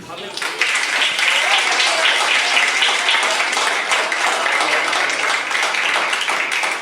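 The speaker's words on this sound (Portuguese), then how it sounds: "Aplaude a Deus." A congregation at a worship service breaks into loud applause that swells quickly and keeps up as a dense, sustained clapping for several seconds, with voices mixed in.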